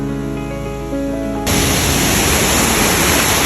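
Water pouring over the top of Amicalola Falls in Georgia, a steady broadband roar that swells abruptly partway through and then holds loud and continuous, with no voices.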